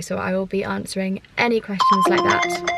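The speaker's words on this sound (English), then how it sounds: "That's my phone" A mobile phone rings indoors with a steady electronic tone, partly buried beneath continuous close talking by a woman.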